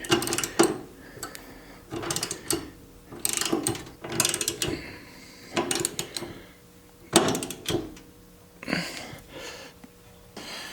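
A ratcheting wrench turns a 17 mm nut to tighten a fitting on a 240 V, 3750-watt Dura Heat EUH4000R electric heater, giving bursts of close, loud ratchet clicks separated by short pauses.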